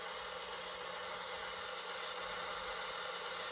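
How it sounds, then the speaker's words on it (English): Steady broadband pink noise played through a loudspeaker in a room, a constant hiss filling the whole clip at an even level with no breaks. "The pink noise is playing through the speaker."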